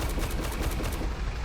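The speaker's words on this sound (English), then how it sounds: "I'm gonna shoot at the mouse tank and see what damage it does" A Wiesel 1 MK20 autocannon in a video game fires a rapid, even string of loud, close shots at a Maus tank, the rhythmic thumping continuing for the whole stretch.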